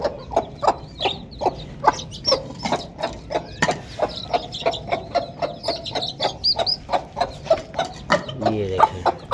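A protective mother hen clucks repeatedly in a steady, close rhythm while one of her chicks is caught by hand, with rattling mechanical clicks and faint chirps mixed in.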